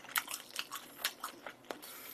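Close, crisp crunching bites and chewing of a Pizza Hut potato croquette pizza, a quick series of crackly crunches over about two seconds with no talking.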